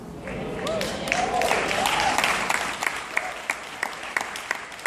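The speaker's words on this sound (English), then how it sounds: "the only reason some of you didn't clap because it's not your money" A live audience at a motivational talk breaks into applause. The clapping is loud and dense at first, then thins out into scattered individual claps, with voices mixed in under it.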